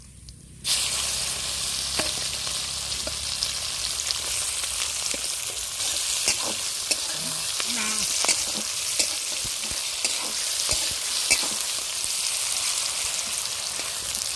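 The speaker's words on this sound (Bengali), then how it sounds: "পেঁয়াজটা ভাজা হয়ে গেছে" Chopped onion fries in hot oil with whole cumin, dried red chilli and bay leaf in a village-style kitchen pan, a steady close crackling sizzle with occasional scrapes and stirs throughout, no talking.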